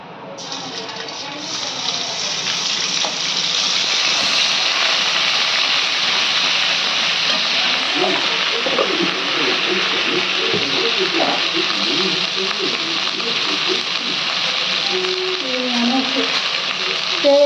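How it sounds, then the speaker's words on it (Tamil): Ginger garlic paste sizzles in hot oil in a pan while cooking a goat brain gravy, a steady loud frying hiss that builds quickly and holds, with a few stirring clinks near the end. "இப்போது தேவையான எண்ணெயை ஊற்றிட்டோம் இப்போது இஞ்சி பூண்டு பேஸ்ட்டு"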